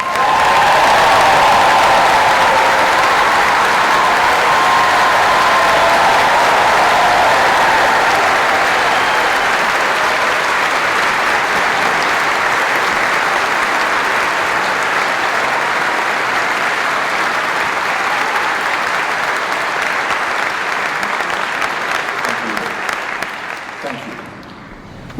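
University graduates receive a long, loud round of applause from a ceremony audience, sustained clapping with scattered cheers that holds steady for about twenty seconds before tapering off.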